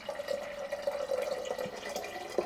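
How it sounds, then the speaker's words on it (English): Hot water poured from a kettle over a Hario V60 coffee dripper into a server, a thin steady trickle with a faint ringing tone, close and unbroken. "So we are going to pour some more water right here."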